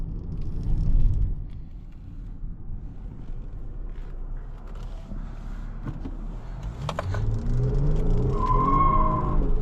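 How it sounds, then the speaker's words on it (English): Naturally aspirated 3.5-litre V6 of a 2021 Lexus ES 350 accelerating, heard from inside the cabin as a steady low engine drone that swells and rises toward the end of the run. "Nice sounding engine. Can't go wrong with the naturally aspirated V6 ever."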